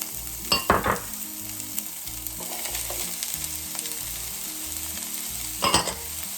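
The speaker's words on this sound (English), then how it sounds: "Alright, so we're going to saute these for just a minute." Chopped vegetables saute in a couple tablespoons of hot olive oil in a pan, giving a continuous sizzling hiss broken by a few sharp utensil stirs and clatters near the start and end.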